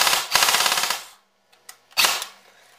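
Echo 1 Stag 15 M4 airsoft-style rifle fires two fully automatic bursts, a rapid loud rattle lasting nearly a second, then a pause with a couple of faint clicks before a shorter second burst.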